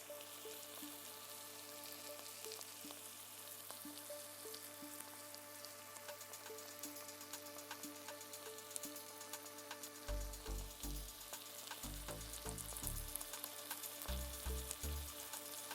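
Onions frying in a pan for a potato bhaji, salted to soften them: a steady, close sizzle throughout, with a few heavier stirring or clattering bursts in the last few seconds.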